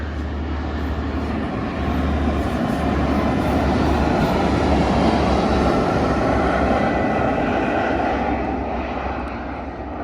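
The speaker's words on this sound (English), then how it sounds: "this is a local service now from Manchester Piccadilly to Leeds." Local train from Manchester Piccadilly to Leeds passing by, a steady broad rumble and roar that swells slightly mid-pass then eases, with no talking.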